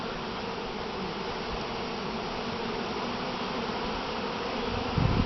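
Honey bees swarm around an open hive box, a thick continuous buzzing drone that stays close and steady throughout, rising slightly near the end with a soft rustle, no talk.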